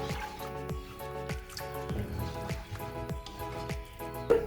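Salt is stirred into a tamarind and black sesame gravy, giving soft wet squelches and drips with a spoon knocking the pot in an irregular rhythm, close and fairly quiet.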